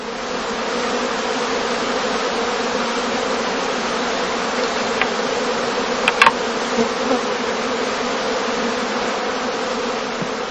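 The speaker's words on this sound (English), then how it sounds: "the humming of the emerging bees is a good indicator of the progress of swarming" Honeybees emerging from a heather skep hum in a dense, steady drone during the prime swarm, loud and continuous, with a few brief louder buzzes of single bees passing close.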